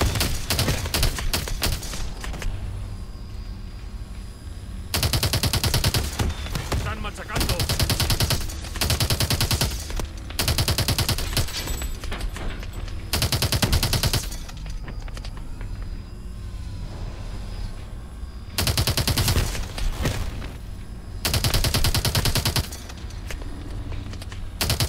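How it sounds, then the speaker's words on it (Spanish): Gunfire erupts in Call of Duty Advanced Warfare, loud bursts of automatic fire arriving in repeated blocks of about a second or two, separated by quieter stretches of game background. "Disparos por la derecha."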